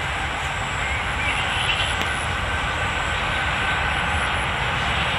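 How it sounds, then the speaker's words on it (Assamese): A freight train passes near a riverbank, producing a loud, continuous broadband rumble and rolling roar that holds steady throughout with no voices. "এয়া ট্ৰেইনৰ শব্দবোৰ ট্ৰেইন গৈ আছে"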